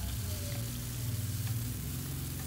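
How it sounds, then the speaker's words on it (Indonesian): Spice paste sautés in hot oil in a pan for cap cay vegetables, giving a steady close sizzle and crackle with no talking. "aku akan lanjut untuk menumis bumbunya"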